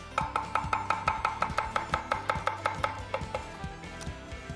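A razor-sharp chef's knife with a full tang and triple rivets rocks and chops on a cutting board in a rapid, even rhythm of about twenty crisp taps, close and clear.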